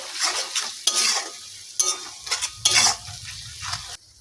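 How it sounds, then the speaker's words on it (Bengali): Spices with Kashmiri chilli are stirred in a pan over low heat for a chicken curry, heard as repeated close scraping strokes with soft sizzling between them, each stroke a distinct burst before stopping abruptly. "এগুলোকে ভালো করে একটু মিশিয়ে নিচ্ছি।"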